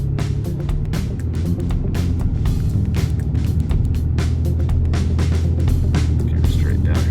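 A vehicle towing an overland bug-out trailer accelerates onto the interstate after warming up, its engine a loud, continuous low rumble with road noise building steadily throughout.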